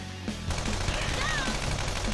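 Rapid bursts of gunfire in the Persona 5 video game, quick repeated shots over game music and effects, with talk partly mixed in.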